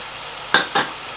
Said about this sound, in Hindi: तो अब ऐड करेंगे इसमें जो हमारे टमाटोज हैं और दही जा रही है बीच में